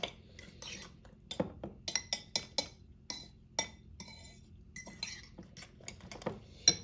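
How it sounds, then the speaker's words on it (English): Fork whisking eggs with other ingredients in a bowl, heard as quiet, rapid metallic clinks and taps against the bowl in irregular bursts, close by with no talking. "you just want to whisk it all up together. So just use a fork just to mix through all of those ingredients"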